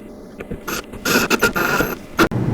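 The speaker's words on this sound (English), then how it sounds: "we're going to take the screw through the left side and screw it into that front rail" A screw is driven through the left side into the front rail of a wooden Badger Basket doll sofa daybed, giving close, ratcheting mechanical clicks and grinding bursts in short spurts.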